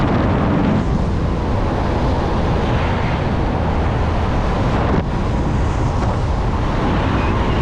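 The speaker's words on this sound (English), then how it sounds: "Listen to that wind." Strong, constant wind roars and buffets loudly against the microphone on a hang glider coming in to land at about 40, without a break, forming a dense, rushing noise throughout.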